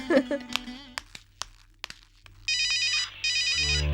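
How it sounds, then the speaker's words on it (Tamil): A telephone rings in a drama scene, a repeating electronic ringtone that starts partway through in two loud bursts with a short gap, after scattered clicks and a brief voice near the start. "சார் ஃபோன் அடிக்கு சார்"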